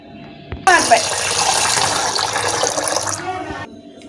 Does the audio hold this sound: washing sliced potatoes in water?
yes